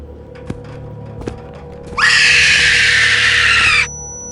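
A woman's scream in a horror video game, a single sustained high shriek of about two seconds that bursts in loud after a few faint knocks and cuts off abruptly.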